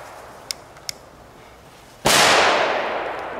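Crackle-ball firecrackers go off outdoors in one sudden loud burst that hisses and crackles as it slowly fades, after a quiet stretch with two faint ticks.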